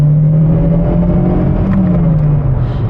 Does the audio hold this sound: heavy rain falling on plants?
no